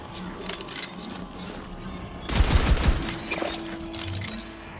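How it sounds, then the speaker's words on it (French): Gunfire in Tiny Tina's Wonderlands as shots hit chests: a rapid burst of loud, close shots in the middle, framed by quieter game sounds and a low tone, with no talking during the burst. "C'est pour ça que je tire sur tous les coffres"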